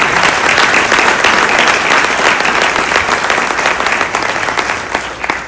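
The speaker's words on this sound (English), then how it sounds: "that deserves a lot of applause for the team" Loud, sustained crowd applause at a county State of the County address, a thick roar of many clapping hands that holds steady and then eases slightly toward the end.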